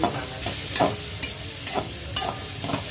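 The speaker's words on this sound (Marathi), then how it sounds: "शिमला मिरची टाकते, त्याला थोडंसं परतवते।" Capsicum and carrot sizzle in a hot pan while being stir-fried for noodles, a steady close frying hiss with rhythmic scraping and tossing strokes from the spatula.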